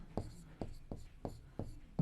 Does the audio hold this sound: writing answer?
yes